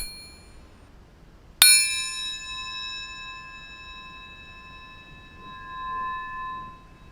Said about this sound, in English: if you twang it, it rings for ages